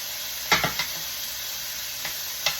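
Shrimp sizzle in a frying pan as they are flipped, a steady soft frying hiss broken by a few quick scraping clatters of the pieces being turned, with no talking.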